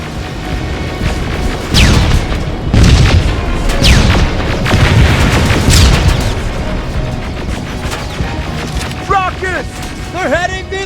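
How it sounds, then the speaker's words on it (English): Rockets blasting in the shooter game Terminator Resistance, with several loud, deep booms and crashes rolling through the first six seconds, then quieter rumbling with short chirpy electronic sounds near the end. "Rockets! They're heading this way!"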